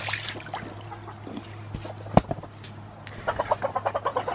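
Chickens on a homestead pen with fresh bedding give a run of soft, rhythmic clucks toward the end, after a single sharp louder call midway over a low steady background hum.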